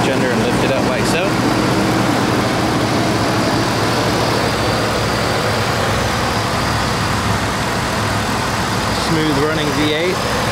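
A 2015 Ford F-150 XL SuperCrew with a 5.0-liter V8 runs at a steady idle close by, a continuous low rumble throughout, with someone talking briefly at the start and again near the end.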